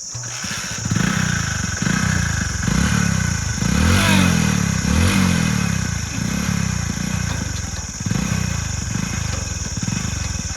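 A motorcycle engine revs loudly and unevenly throughout, with repeated surging throttle bursts and some clatter, close by and with little or no talk.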